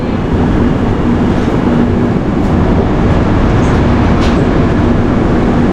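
A loud, steady train rumble at busy Kottayam railway station fills the whole stretch, with a constant low drone and faint hiss, no talk over it.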